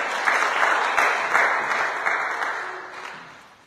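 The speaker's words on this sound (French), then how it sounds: "Acclamons très fort le Seigneur." A church congregation bursts into loud, sustained applause with many hands clapping together, then gradually fades toward the end.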